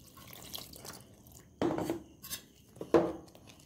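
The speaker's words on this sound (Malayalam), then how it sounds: "മിക്സിക്കകത്തോട്ട് ഇച്ചിരി വെള്ളം ഒഴിച്ച്" Water is poured into a mixer grinder jar while making dosa batter, a faint close trickle broken by two louder splashing clinks against the jar.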